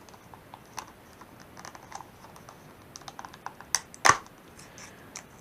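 Packaging of an Xbox One S being opened: soft crinkling and scratching with a couple of sharp tearing snaps near the end, close by and without talking.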